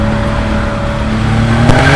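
Maserati racing car taking a corner hard on a circuit, its engine a loud, steady drone with a sharp transient near the end as it pushes through the bend.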